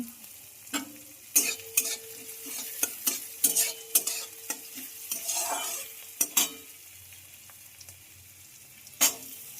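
Onions and chilies fry in a pan with a soft, steady sizzle, broken by close, sharp clinks and scrapes of a utensil stirring. Quieter stretches fall between the bursts of stirring.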